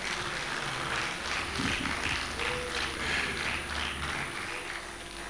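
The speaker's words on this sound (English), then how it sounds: "a round of applause for him" A graduation lecture audience applauds a police dignitary, a steady wash of clapping lasting several seconds at moderate, even loudness, with faint background murmur underneath.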